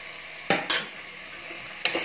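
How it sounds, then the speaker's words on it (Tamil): Vegetables for veg kurma being sautéed in a pan, with a low steady sizzle and three sharp clinks of a spoon against the pan, two close together and one near the end. "நல்லா 1-2 நிமிஷம் வதக்கி விட்டுக்கலாம்."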